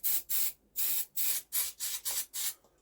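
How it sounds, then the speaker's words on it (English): Brake cleaner from an aerosol can is squirted into the inlet of a Norman T300 carburettor in about nine short, close hissing bursts with brief gaps between them. "squirt a little bit of brake cleaner in that inlet"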